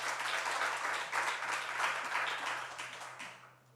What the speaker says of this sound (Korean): 우리 하나님께 영광의 박수 올려드립니다.